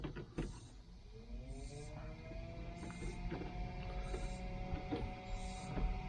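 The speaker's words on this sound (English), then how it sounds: "Blower motor works, but the speed doesn't speed up." The heater blower fan motor in a 1978 Chevy Nova whirs up to speed and holds a faint, steady whine with a low hum beneath it and a few light clicks, quiet and close in the cabin.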